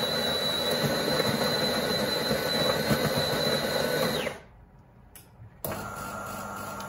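Delonghi ECAM 23.460.S bean-to-cup coffee machine grinding and brewing a double coffee, with a loud steady mechanical whirring hum and a high whine that cut out briefly and then resume, close and alone.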